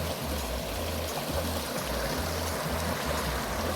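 A pretty creek flows near the Tower House at Old Shasta, where people pan for gold, a steady close rush and burble of water with no voices.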